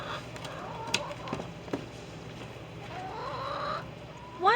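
Several chickens cluck inside a chicken house on a summer day, soft scattered clucks and short calls at close range over a low steady background hum, with one louder squawk near the end.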